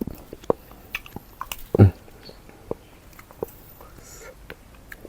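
Crisp cha-om leaves eaten with khanom jeen rice noodles, heard as close, scattered crunchy bites and wet chewing with one loud crunch near the middle, quiet between bites and no talk.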